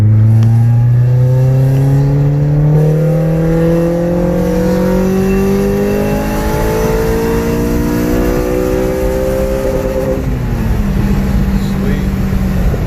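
Tuned car engine on a third-gear pull from 3,000 RPM, a loud close steady drone rising in pitch over about ten seconds, then easing off at the top.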